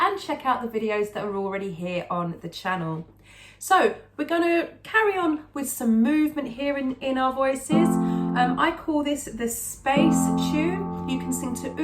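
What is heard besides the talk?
No everyday noise stands out behind the speech.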